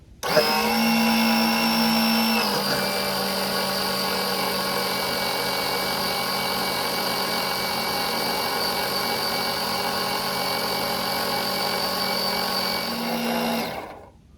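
Electric suction pump drawing old power steering fluid from the reservoir of a Ford F250 with a 7.3 Powerstroke, a loud steady motor whine running about eleven seconds with a pitch drop near the start and a brief shift before it stops.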